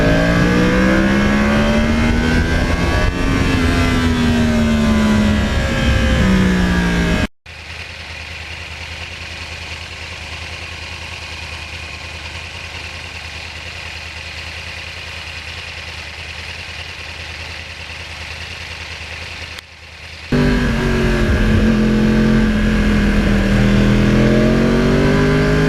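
A 2009 Yamaha R1 crossplane sport bike engine rises and falls through loud, close revs. A long stretch of steady rushing roar sits between two revving passages.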